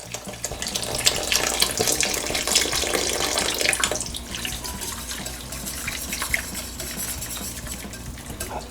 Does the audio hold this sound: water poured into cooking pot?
yes